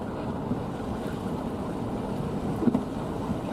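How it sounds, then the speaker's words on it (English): Gusty wind buffets the outside of a car driving downhill in a snowstorm in northern Nebraska, a steady low rumbling roar with a few slightly stronger gusts near the end. "Oh, it's getting a bit gusty now."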